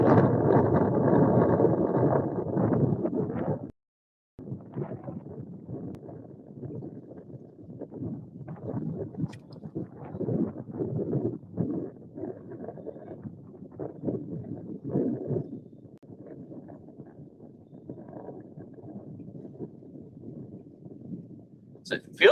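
Wind gusts across a lake around a fishing kayak, a strong buffeting roar at first that drops to a lighter, uneven rush across the microphone.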